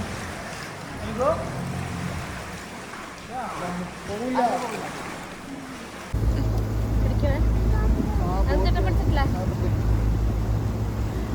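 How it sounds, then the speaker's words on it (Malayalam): An evening boat ride on the sea in Montenegro: people talk over wind for the first half, then a steady, loud motor drone takes over while the voices continue. "നമ്മളപ്പോൾ ചെറിയൊരു ഈവനിങ് ബോട്ട് റൈഡ് എടുത്തിട്ടുണ്ടായിരുന്നു"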